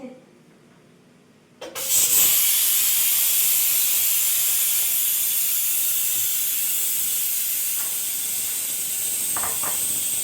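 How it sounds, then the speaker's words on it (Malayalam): After a short quiet stretch, a pressure cooker holding curry abruptly releases steam, and a loud, steady, close hiss carries on to the end with little change. "നമ്മളെ കറി ഒരു വിസിൽ കേട്ടിരിക്കുന്നു, റെഡി ആയിരിക്കുന്നു."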